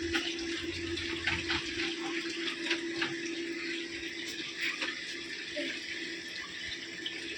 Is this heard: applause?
no